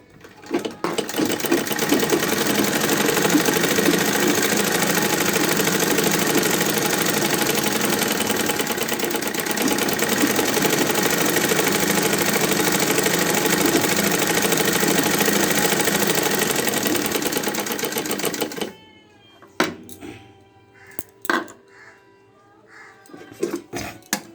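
A sewing machine stitches a blouse in one long, loud, continuous run of nearly twenty seconds with a dense mechanical whir, then stops, leaving a few quieter clicks and handling sounds.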